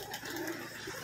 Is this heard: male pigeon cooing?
yes